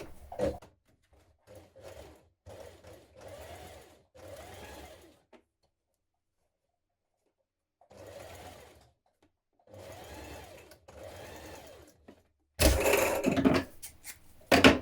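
A sewing machine stitches a winter coat panel toward a point in short stop-start runs, several separate bursts with pauses between, ending in a louder, harsher final burst.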